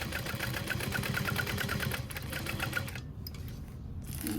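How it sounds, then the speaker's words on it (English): Sewing machine back stitching a backpack seam, a fast, even mechanical chatter of needle strokes that runs steadily, then briefly drops out before resuming at a quiet, close level. "Back stitching over any accent pieces for reinforcement."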